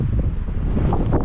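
Strong wind buffets the microphone beside the ocean in a calm, quiet coastal spot, giving a loud, continuous low rumble with no voices.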